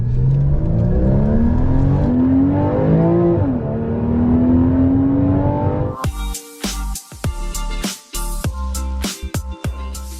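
A Porsche 981 Boxster engine revs loudly and close, its pitch climbing steadily over several seconds, then gives way to choppy bursts and throttle blips with short gaps between them.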